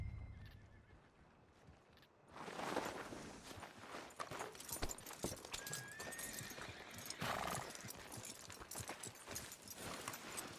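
In the video game Red Dead Redemption 2, a horse whinnies loudly over steady clip-clopping hooves, the neigh rising and fading while the hoofbeats continue at a walking pace.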